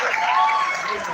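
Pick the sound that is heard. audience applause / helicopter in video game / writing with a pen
audience applause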